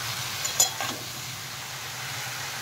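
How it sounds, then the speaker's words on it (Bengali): Cut stems and leafy greens are stirred in a pan over a gentle sizzle, with a couple of brief scraping clicks early on before the frying settles into a quiet, steady hiss. "এইবার আমি যে ডাঁটা আর শাকটা কেটে নিয়েছিলাম, সেইটা আমি এর মধ্যে দিয়ে দেব পুরোটা ভালো করে। দিয়ে একটু নাড়াচাড়া করে নিয়ে"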